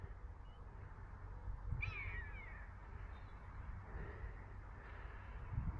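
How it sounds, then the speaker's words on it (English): Crows caw faintly in the distance among other birds, with one clear, slurred call standing out from a quiet outdoor background. "look at these birds. How cool is that?"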